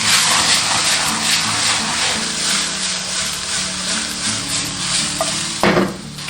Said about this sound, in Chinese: 然后鱿鱼须爆炒个15秒。